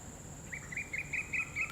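A single bird chirps a quick repeated series of high notes, fairly faint, over a quiet steady background hum.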